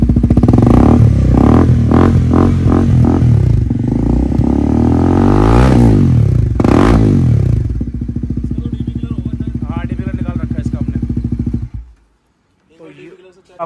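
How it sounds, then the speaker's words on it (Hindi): A Bajaj NS 400 motorcycle fitted with an aftermarket full exhaust revs repeatedly up close, loud and throaty, several sharp blips giving way to a steady idle before cutting out near the end. "और जितने बड़े एग्जॉस्ट लगाओगे उतने ज्यादा साउंड में बेस आएगा, जितने छोटे लगाओगे उतने ज्यादा लाउड होते चले जाएंगे।"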